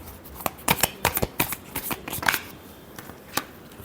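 Tarot cards are shuffled by hand in a rapid run of crisp riffling snaps and flicks, close and fairly loud, with no talking.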